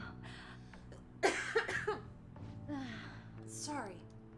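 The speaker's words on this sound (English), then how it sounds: "I can't stop coughing." A female character in the video game Persona 5 coughs in a short burst of harsh coughs near the middle, with strained vocal sounds and background game music around it.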